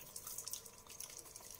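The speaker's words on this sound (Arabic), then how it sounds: "انا غادي نغسل ليا وجهي بهذا لاغوش بوساي" Tap water running and dripping at a bathroom sink while a face is washed, a soft, steady trickle with small splashes, fairly faint and close, no voices.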